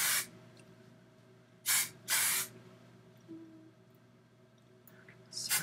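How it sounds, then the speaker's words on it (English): Short bursts of volume hairspray hiss from an aerosol can, two close, loud sprays in quick succession and another brief one at the very end, with quiet room noise between them and no talking. "Spray some on my eyebrows."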